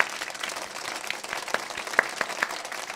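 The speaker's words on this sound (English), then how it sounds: "Please clap." An audience clapping, a thin scattered patter of claps at moderate distance, steady throughout with no voices.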